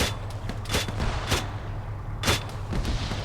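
Arma 3 gunfire crackles in a dense, irregular exchange, with several sharp, loud shots and booms standing out over a steady background rumble of distant firing.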